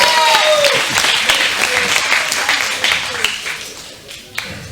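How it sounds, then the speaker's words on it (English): Crowd at a CWF Eternal wrestling event claps for Beth, a loud, dense burst of applause that gradually thins and fades, with a voice cutting through early on. "Let's give a round of applause for Beth."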